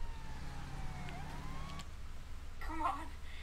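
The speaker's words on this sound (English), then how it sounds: "Oh jeez, I wrecked that police car." A police car siren in the video game Saints Row The Third wails briefly, then cuts off, followed by a short burst of clatter amid low game rumble.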